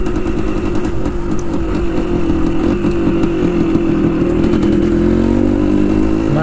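A Suzuki TS185 motorcycle engine runs steadily and accelerates on a test ride after an inspection, a continuous buzzy mid-pitched drone heard up close with no talking.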